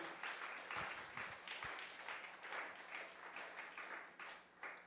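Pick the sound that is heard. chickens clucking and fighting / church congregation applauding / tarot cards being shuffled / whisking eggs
church congregation applauding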